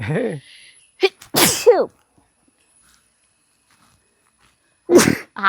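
A sharp sneeze bursts out close by, with a brief voice before it and another short burst at the end.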